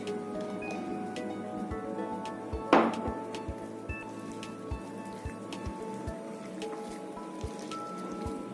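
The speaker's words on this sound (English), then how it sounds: "And mix it well." A thick batter for pizza cups is stirred in a bowl with a little added water, giving soft wet squelching and regular light spoon taps, with one louder slosh near the middle, close and quiet.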